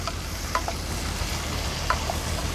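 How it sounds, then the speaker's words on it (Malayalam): Onions sautéing with salt in a pan give a steady, close sizzle and frying crackle, with a few brief scraping stir sounds and no voices. "ഇതിലേക്ക് സവാള ഒക്കെ വഴന്ന് വരുന്നുണ്ട്"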